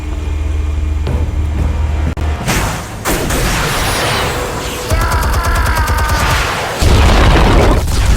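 Explosives detonating in Batman: The Telltale Series: a chain of loud, close booms and rumbling blasts with crackling debris, swelling into a heavy final explosion, no voices.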